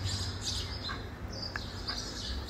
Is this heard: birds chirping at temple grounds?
yes